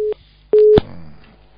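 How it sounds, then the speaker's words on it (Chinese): Telephone busy signal after a dropped call: a steady electronic tone that sounds three times in short, evenly spaced beeps, with faint line noise trailing after the last one. "电话跳掉"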